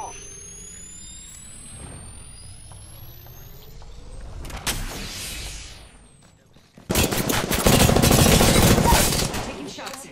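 Weapon fire in the battle royale game Apex Legends comes in sharp rapid bursts, first sparse near shots, then a loud sustained automatic volley over faint game sounds.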